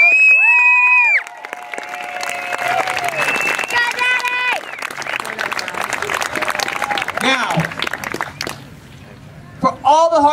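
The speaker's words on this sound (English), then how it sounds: "Please give a big round of applause for Scott." Audience applause and cheering fill an event hall at a film premiere, loud clapping under several voices with occasional shouts that fade toward the end.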